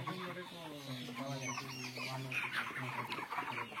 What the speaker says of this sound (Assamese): চাওক মুৰ্গীখিনি ভালকৈ চাওক।